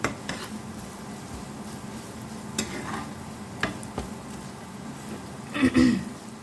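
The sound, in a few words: stirring raw mango into spiced oil in a pan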